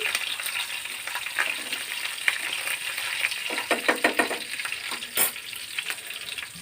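Tempering spices sizzle and crackle in hot oil for a drumstick-leaf rasam, with a steady hiss broken by sharp pops and a few stirring clinks.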